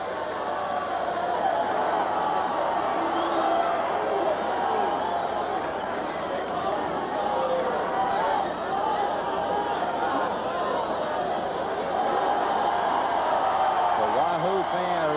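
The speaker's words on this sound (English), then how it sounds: "Pius fans cheering as apparently they think someone from Wahoo threw the ice." Pius X fans cheering at a 1989 Class B state championship basketball game against Wahoo, a sustained crowd roar and babble filling an indoor gym, steady and moderately loud throughout.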